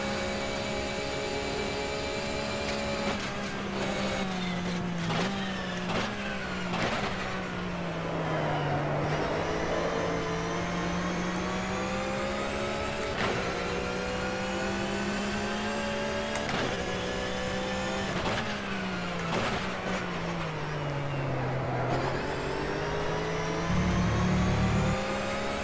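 Flat-six endurance race car revving in the rFactor racing sim at Bathurst, a loud continuous engine note that rises and falls through gear changes with whining harmonics, alone throughout.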